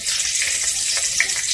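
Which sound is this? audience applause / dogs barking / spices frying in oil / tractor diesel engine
spices frying in oil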